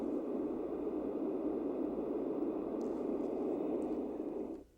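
A Marsona Sound Conditioner produces a steady, dense rushing noise imitating a waterfall, continuous and even for nearly five seconds before abruptly cutting off.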